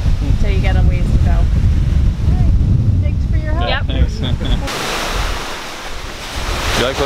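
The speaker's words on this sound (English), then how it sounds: "Do you like looking at all the waves" Ocean waves surge and break continuously along the shore at Sodus Point, a steady broadband wash with wind buffeting the microphone and voices talking faintly over it.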